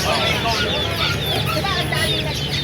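Chickens cluck and squawk in a busy, noisy flock nearby at a market in Bocaue, with overlapping calls throughout and some voices mixed in.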